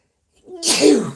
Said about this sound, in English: Sneeze so hard my eyes start twitching.